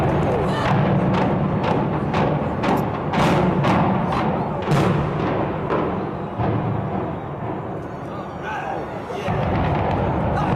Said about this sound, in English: Many people gathered around to watch a place they once called home collapse right in front of their eyes.